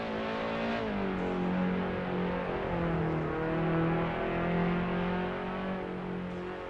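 Pagani Zonda R race car in Assetto Corsa, its engine droning steadily and loudly throughout with shifting pitch as it revs and holds, no voices over it.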